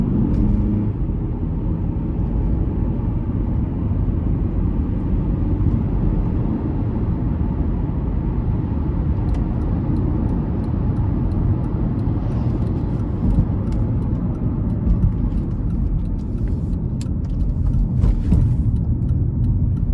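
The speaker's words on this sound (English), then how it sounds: "Now I'm gonna take it on the interstate here and put my foot into it" A 2004 Honda CR-V LX accelerates hard on the interstate, with a steady, dense engine and road roar heard from inside the cabin and no speech.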